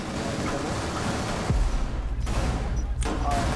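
Gunfire in Rainbow Six Siege, a burst of game shots over a noisy background with a sharp impact in the middle and a few more scattered reports, no talk.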